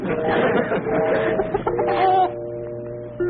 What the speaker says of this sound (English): Well, how about Earl, my Benny Rooster that plays dead?